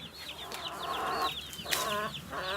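Chickens in a henhouse clucking and squawking, several birds calling in overlapping bursts over a low steady background hum, moderately close.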